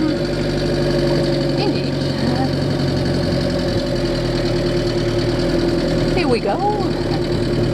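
An old banger van's engine runs loudly and steadily as the van drives off, a close, rough, knocking drone with a deep rumble, while people exchange a few words over it.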